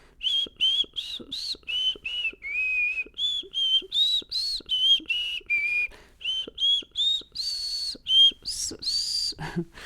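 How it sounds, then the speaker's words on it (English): A person whistles a wavering, breathy tune of short repeated notes, close and fairly loud, with brief gaps between phrases. "My whistle's always been really bad"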